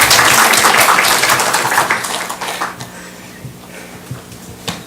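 A church congregation applauds at a family festival service, a loud dense burst of clapping that gradually thins into scattered claps and fades out.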